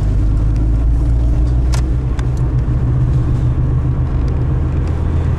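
A car driving on the road gives a loud, steady low rumble of engine and tyres from inside the cabin, with a few faint clicks on top and no talking.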